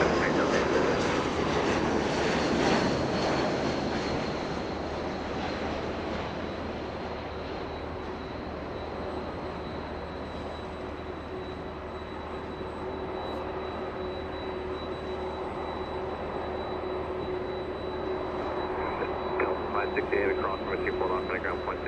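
An airliner departs from a runway at Los Angeles International Airport, its jet engines a loud broad roar at first that fades into a steady distant drone, with radio chatter and talk over it.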